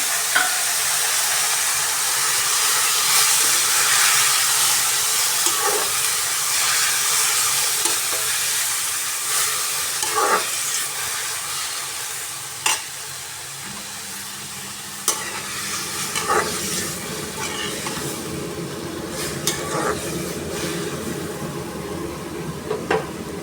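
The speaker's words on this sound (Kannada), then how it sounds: "ಇವಾಗ ನಾನು ಟೊಮೆಟೊ ಹಾಕ್ತಾಯಿದ್ದೀನಿ." Chopped tomatoes sizzle steadily in a hot pan for village-style tomato gojju, with scraping stirs and soft clinks throughout. Partway through, the frying settles into a lower, gentler hiss.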